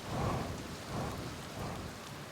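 Heavy rain pours on a planet in the Outer Wilds video game, a dense steady hiss with low rumbling swells that rise and fall in slow waves, continuous with no voices.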